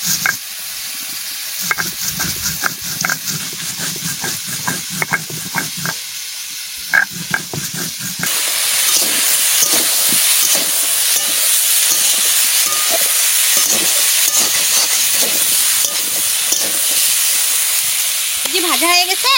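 Ground coriander, black pepper and cumin masala fries in a pan for an egg masala. Scattered utensil clinks over a softer sizzle give way to a loud, steady, close hiss of frying that fills the second half.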